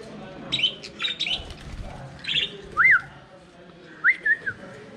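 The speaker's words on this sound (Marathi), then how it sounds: "पहिला आपण सुरुवात करूया या सकाळ सकाळ कालवा करणाऱ्या पक्ष्यांपासून" Birds chirp and whistle in short, sharp bursts on a morning at a budget hostel in Pondicherry, with several separate calls spread over a quiet background and faint murmuring beneath.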